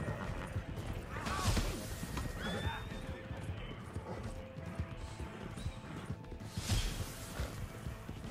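A horse in the Red Dead Redemption 2 video game whinnies twice amid clip-clopping hooves and game action noise, with players talking faintly underneath.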